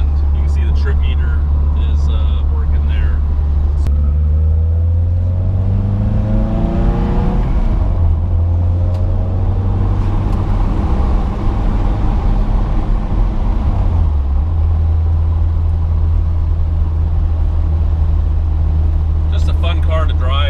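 A 1972 BMW 2002tii driven on the road, its engine a steady low drone that rises and falls through gear changes, with road and wind noise around it and someone talking at times.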